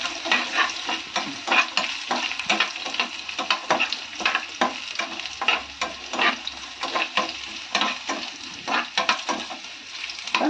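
Cashew nuts are stirred in a hot frying pan, giving a dense crackling sizzle broken by rapid, repeated scraping strokes of a spatula in an uneven rhythm for the whole stretch, close and fairly loud, with no speech.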